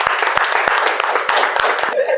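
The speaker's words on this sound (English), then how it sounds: "They deserve a clap." A few scattered hand claps pop out over steady talking that continues throughout.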